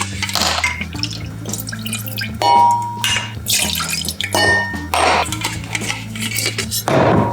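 Bourbon is poured into a cocktail vessel for a clarified milk punch, with liquid splashing and trickling amid clinking glassware and metal tools, close and loud in short bursts.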